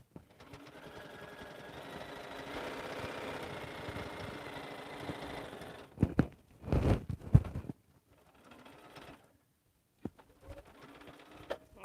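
Sewing machine motor running steadily as it back stitches a lined stocking, a continuous whirring buzz for several seconds, then short separate bursts of stitching broken by pauses.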